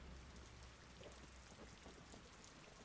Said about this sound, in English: It started raining pretty hard as well